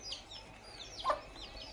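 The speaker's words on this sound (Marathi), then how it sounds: "एवढेच कोंबडे आहेत आता मला." Backyard hens and roosters in a small home flock cluck softly at a distance, with a few faint, scattered calls and no talk.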